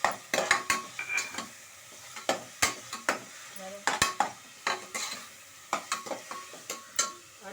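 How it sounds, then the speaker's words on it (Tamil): Ginger garlic paste sizzles in a pan for mutton kulambu, with a soft steady fry under sharp, irregular scrapes and clanks of a spoon stirring against the metal, close and fairly loud. "இஞ்சி பூண்டு பேஸ்ட்டு போட்டுக்கலாம்."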